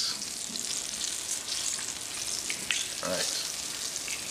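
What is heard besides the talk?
fish frying in hot oil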